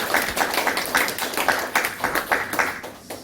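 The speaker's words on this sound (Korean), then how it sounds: "우리 박수로 하나님께 영광 올려드립니다." A church congregation applauds during a Sunday worship service, steady clapping from many hands with rhythmic peaks, filling the room for a few seconds with no speech.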